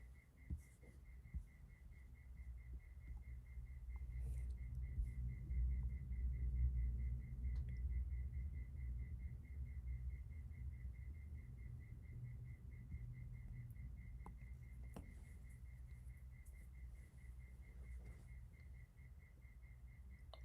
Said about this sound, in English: I assume you can probably hear some crickets chirping in the background.